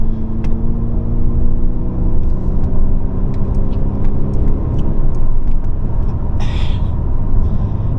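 A 2024 Mercedes-Benz GLC 220d Coupe diesel engine drones steadily from inside the cabin while driving, with a loud, continuous low rumble and engine tones that shift as it changes down.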